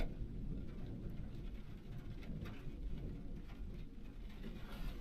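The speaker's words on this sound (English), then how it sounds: "now it's raining too much" Rain falls steadily on a farm during a harvest day, a soft, even patter that stays faint and continuous throughout, with no voices over it.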